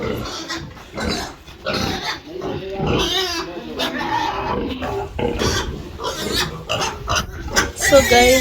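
A pig with piglets on a Kenyan village farm grunts and oinks repeatedly at close range, rough snorts and squeals coming in irregular bursts, while someone talks over them.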